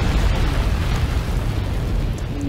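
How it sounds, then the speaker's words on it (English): Felyne barrel bomb explosion in Monster Hunter Stories 2, a loud, close, booming blast whose broad rumble holds for a couple of seconds and slowly fades. "Wow, that was pretty big. Feline Barrel Bomb."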